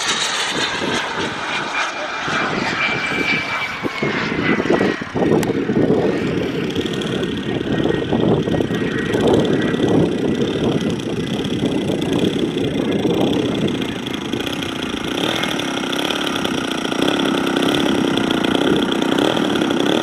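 A Gee Bee Sportster airplane flying at the Nall in the Fall 2024 air show, its engine giving a loud, continuous propeller drone that holds steady and close for about twenty seconds, with no talking.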